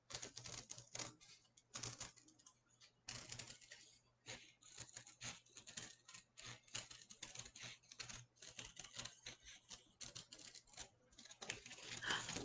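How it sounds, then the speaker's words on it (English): Scissors snipping steadily around a paper circle for a children's craft, a quick irregular run of crisp close cuts and paper rustles, with a soft voice now and then. "keep cutting until your circle comes out of your paper"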